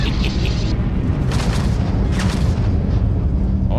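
Missile explosions in the Starfield video game with a Star Wars mod, loud booming blasts over a constant rumbling roar, with two bursts standing out around the middle.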